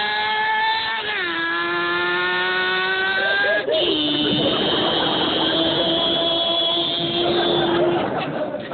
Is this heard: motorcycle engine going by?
yes